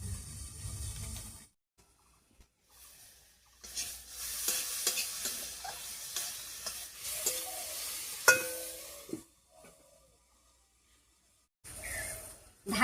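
Egg-and-eggplant masala frying under a lid in a pan, a steady sizzle with clinks and stirring scrapes in bursts, separated by quiet gaps.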